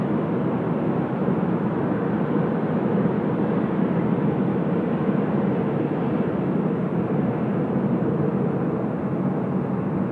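Qantas Airbus A330 jet rolling down the runway for takeoff at Sydney Airport, a steady broad roar of engines heard from a distance, sustained evenly for ten seconds without speech.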